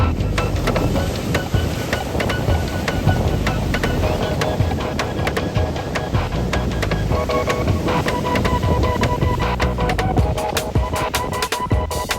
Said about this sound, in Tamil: இந்த பக்கம் பார்த்தீங்கன்னா பயங்கர ஆக்ரோஷமாக இருக்குது